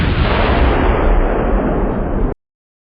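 A historic coastal artillery gun at Fort Worden fires, a loud sustained roaring blast filling the whole clip for over two seconds before cutting off abruptly to silence.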